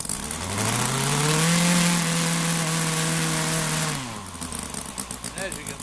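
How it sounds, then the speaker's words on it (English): An OS IL300 converted engine runs with a steady, revving drone that holds, then winds down to a low idle with a soft, rhythmic putter near the end. "Now that's a real low idle for you."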